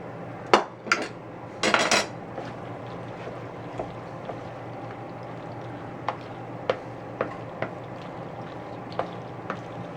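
Utensils scrape and clatter in a bowl as ham is mixed into a rotini and macaroni salad, with a few louder clinks early on followed by sparse light taps, close and alone.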